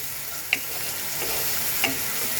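Sliced onion and green chilies fry in hot oil in a pan, giving a steady close-up sizzle with two brief scraping clicks of stirring.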